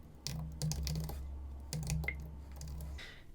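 Keys clatter on a computer keyboard as a command is typed, two quick bursts of close, crisp clicks separated by a short pause, quiet and with no voices.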